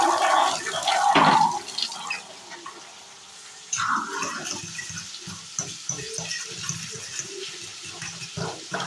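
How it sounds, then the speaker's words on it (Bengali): Water pours and splashes into a mustard spice paste for a cauliflower and potato curry, a loud gush at the start, then softer trickling and clinks of stirring in a kitchen. "এই মশলাটাতে আমি কিছুটা পানি দিয়ে গলিয়ে নেব"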